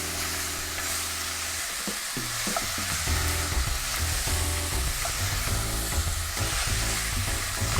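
Drained, soaked lentils mixed together and frying in a pan for a salmon dish, with continuous close sizzling and repeated stirring scrapes, loud and steady under a musical background.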